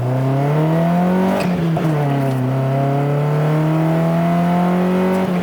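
A Nissan 240SX accelerating and shifting as it drives by and drifts, a loud buzzing engine note climbing in pitch, dropping at each gear change, then rising again, with brief tire noise.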